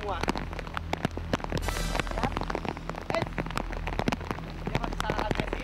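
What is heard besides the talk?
heavy rain falling in a cave area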